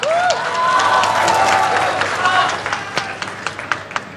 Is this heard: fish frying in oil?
no